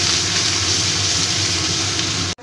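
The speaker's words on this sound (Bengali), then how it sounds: "পেঁয়াজটাকে আমি একটু ভালো করে ভেজে নেব।" Onion paste frying in oil in a pan, a dense, steady sizzle heard close up for a couple of seconds before cutting off abruptly at the end.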